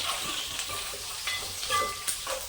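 Onions and garlic fry in a pan for a drumstick curry, giving a soft, steady sizzle with faint stirring scrapes, close but fairly quiet.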